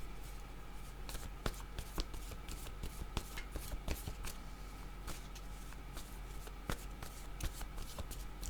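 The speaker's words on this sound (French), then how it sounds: "Je vais demander une carte mot." Oracle cards being shuffled by hand, a soft continuous riffle of card slaps and flicks with sharper taps at irregular moments, close and quiet, with no talking.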